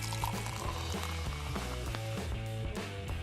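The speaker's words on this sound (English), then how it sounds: "Pour Sprite into an empty spray bottle" Sprite pours steadily into an empty spray bottle with a gurgling, rising fill sound and faint fizzing, close and continuous.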